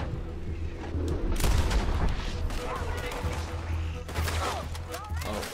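Gunfire in a video game shootout, repeated shots and bursts mixed with booming impacts throughout, loud and busy, while a player talks over the action.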